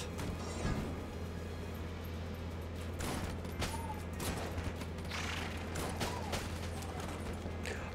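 Gunfire from a gun in the game Enter the Gungeon comes as scattered sharp shots and bursts over a constant low hum, mixed with mechanical clicks and game effects.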